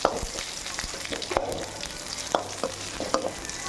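Gongura thokku ingredients stir-fried in a hot pan, with a steady sizzle broken by repeated scraping clacks of a spoon against the pan, close and moderately loud, with no voices.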